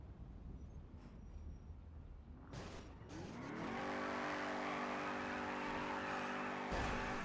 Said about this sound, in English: A very fast car on the train tracks.